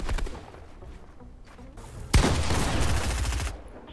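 Rapid bursts of gunfire in a Fortnite Zone Wars match: a faint volley at first, then a sudden loud, sustained barrage of close shots lasting over a second before cutting off.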